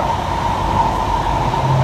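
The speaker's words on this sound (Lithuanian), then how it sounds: "Žodžiu, važiuojam su metro." A London Underground metro train runs with a loud, steady rumble and a sustained whining tone, close and continuous throughout with no pauses.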